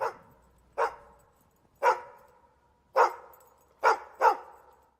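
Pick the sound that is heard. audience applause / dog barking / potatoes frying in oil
dog barking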